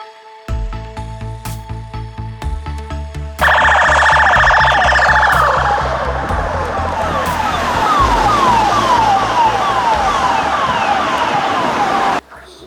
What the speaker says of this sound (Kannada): ಝೀರೋ ಟ್ರಾಫಿಕ್ ಮೂಲಕ 6 ತಿಂಗಳ ಮಗುವನ್ನ ಉಚಿತವಾಗಿ ಈಶ್ವರ್ ಮಲ್ಪೆ ಆಂಬುಲೆನ್ಸ್ ಮೂಲಕ ಕರೆದುಕೊಂಡು ಹೋಗಲಾಗಿದೆ.